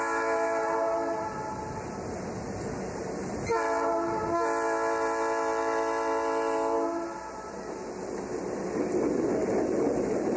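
Monon Railroad train running with old covered wagons, a loud sustained horn blowing in two long blasts over the steady rumble of the rolling cars, with no voices.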